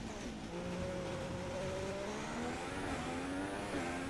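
Racing car engine from the video game F1 2016, a steady high whine that climbs in pitch through gear changes, loud and continuous throughout.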